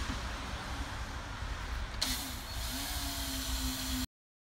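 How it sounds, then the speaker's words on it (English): A steady mechanical whir runs under background noise, with a tone rising in pitch midway, as an electric drill spins up boring holes during a Jeep speaker replacement. "take your drill, put your drill bit in, all that fun stuff, and drill some holes"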